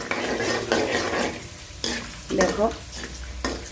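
Food fries in old oil in a pan, sizzling steadily while a utensil scrapes and stirs in uneven bursts close by; someone speaks briefly.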